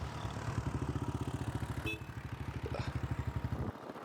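A tractor engine chugs past on a road in the Godavari region, a steady loud pulsing putter close by that holds for nearly four seconds before cutting off abruptly.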